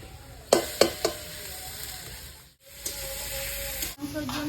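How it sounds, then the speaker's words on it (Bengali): A steady sizzle of ginger, garlic and green chillies added to browned onions frying in hot oil, with a few sharp spatters and stirring scrapes near the start and end; no talking. "পেঁয়াজ আমার লাল লাল করে ভাজা হয়ে গেছে দেখুন এবার দিয়ে দিচ্ছি আদা রসুন কাঁচা লঙ্কা"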